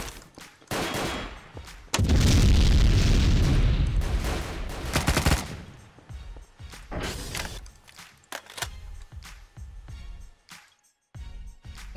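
Gunfire in a Garry's Mod DarkRP shootout behind a trash bin, with a dense loud burst of shots early on followed by scattered sharper single shots and clatter.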